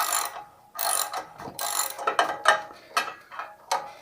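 Socket wrench ratcheting a spark plug out of a Champion generator, a series of close, dry clicking bursts in uneven strokes with short pauses between, socket scraping against the plug shield, no voices.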